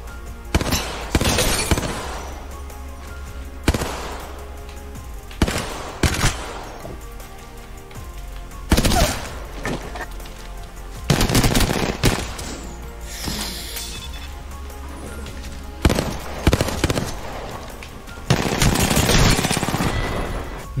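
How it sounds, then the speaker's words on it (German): A Hemlock rifle fires in bursts during Apex Legends play, with loud, punchy volleys of several quick shots and gaps between them, plus occasional crashes and impact clatter over a constant game background. "Boah, die Hemlock ist natürlich auch saftig."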